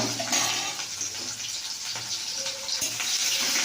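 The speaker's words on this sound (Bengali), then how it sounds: "পেঁয়াজটা একটু ভাজা ভাজা হলে" Onions frying in a pan give a soft, continuous sizzle and hiss, fairly quiet and unbroken, with no one talking.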